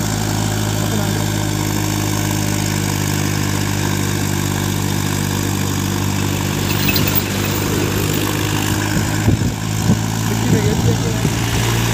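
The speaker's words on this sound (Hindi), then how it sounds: "बड़ी चढ़ाई आ चुकी है, गियर शिफ्ट कर लिया है" Massey Ferguson 1035 40HP tractor pulling a loaded trolley up a steep road slope after a gear shift, its steady low diesel drone loud and close, with rattling bursts toward the end as the engine labors.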